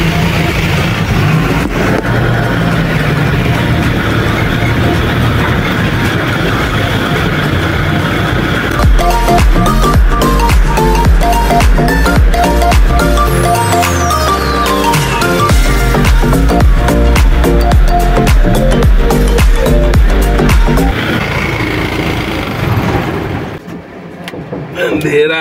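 A loaded truck rolls into a dark company yard, its engine rumbling low and steady over clatter and knocks, with a long falling whine partway through before the noise fades near the end; people talk throughout.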